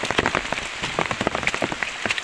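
Rain patters steadily onto a surface on a roadside outdoors, a dense close spray of drops with no voices.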